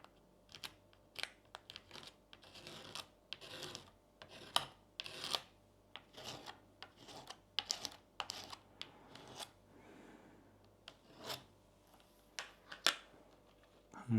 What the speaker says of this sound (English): That was too much. I'll scrape that in a second.